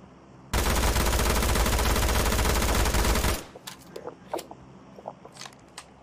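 Automatic gunfire in the mobile battle royale game PUBG Mobile, a loud, dense burst of rapid shots lasting about three seconds, followed by scattered sharper clicks and small impacts.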